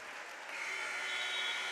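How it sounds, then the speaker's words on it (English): Steady, fairly faint crowd applause from spectators at a girls' all-star high school basketball game in Fargo, a smooth wash of distant clapping with no voices. "Round of applause from everyone in attendance"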